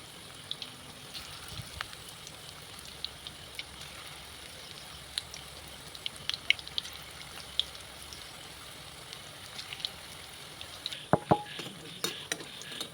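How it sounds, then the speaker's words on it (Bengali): Small Malabar spinach pakoras frying in hot oil give a soft, steady sizzle with faint crackles, dropped in one at a time, then a brief cluster of sharper clinks and spatters near the end. "তো দেখতেই পাচ্ছেন আমি ছোট্ট ছোট্ট করে এক এক করে পকোড়াগুলো দিয়ে দিচ্ছি"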